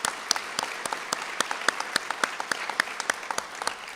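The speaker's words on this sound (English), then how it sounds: "Let's give them applause." Audience applause at a Veterans Day commemoration at the Reagan Library: a steady, fairly loud wash of many hands clapping, with sharper individual claps standing out throughout.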